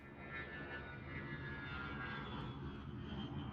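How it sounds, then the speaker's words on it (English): An airplane takes off as a visual novel sound effect, a steady broad engine roar holding at an even level throughout, rather faint and with no talk over it. "An airplane ascended into the wide blue sky."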